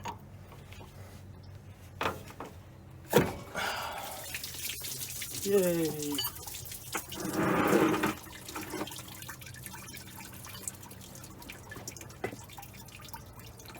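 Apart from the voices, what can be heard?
water dripping from removed Ford F100 water pump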